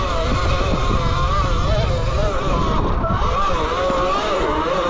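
E Ride Pro S 6kW electric bike, stock tires and suspension, ridden at wide open throttle on rough ground, with a loud steady whine and rushing wind and rattle that hold at one level throughout.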